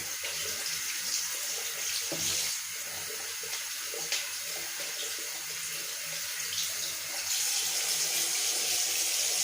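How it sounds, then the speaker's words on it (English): Cold tap water running steadily into a sink while a shaving brush is rinsed, a soft continuous hiss and splash heard alone at moderate level for the whole stretch. "Clean off your brush, cold water yet again."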